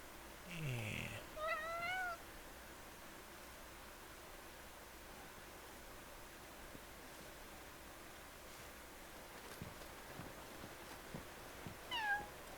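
A longleaf forest cat meows in the game Crimson Desert. There are a couple of short meows near the start and another near the end, faint over a steady soft hiss.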